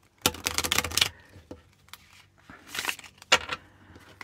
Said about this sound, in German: je mehr man die äh, Decks so mischt, wie ich sie hier gerade mische